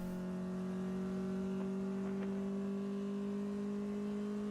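Endurance race cars at the NCM circuit head down through the Corvette curves, engines droning at a steady pitch. The whine sits at a constant, moderate distance, with no voices over it.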